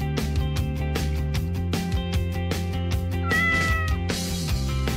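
A kitten meows repeatedly over a steady, sustained tonal backing that fills the whole stretch, the cries close and fairly loud.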